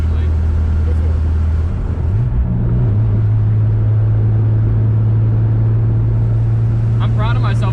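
A 1988 Chevy S10 five-speed pickup engine at full throttle, a loud steady drone that dips and climbs to a higher sustained pitch after a shift, with people talking over it inside the cab.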